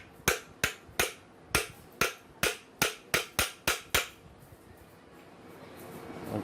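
A wooden block taps the bush of a BLDC ceiling fan rotor during fitting, giving eleven sharp, close knocks at a brisk, slightly uneven pace before falling quiet.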